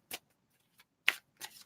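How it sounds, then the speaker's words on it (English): Tarot cards being shuffled in short riffling bursts, three or four quick brushing flicks separated by brief pauses, close and fairly quiet with no talking. "No, I'm going to have to shuffle again."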